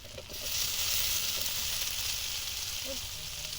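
Spices, chili powder and chopped tomato frying in a pan for a rui fish curry, a soft, continuous sizzle that swells after the first half second and holds steady, with faint background sounds.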